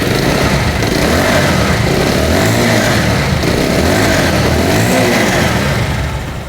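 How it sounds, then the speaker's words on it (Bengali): A 2026 Bajaj Pulsar 150 single-disc ABS motorcycle, about two months old with 2,200 km on it, runs steadily with its engine revving up and down twice, loud and close, with no talk over it. "আপনারা বাইকটার সাউন্ড শুনতে পাচ্ছেন আশা করি।"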